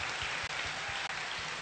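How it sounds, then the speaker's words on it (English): Applause from a fan convention panel audience, a brief dense wash of many hands clapping at once that fills the space loudly with no voices over it. "I think a round of applause for those people who came from overseas."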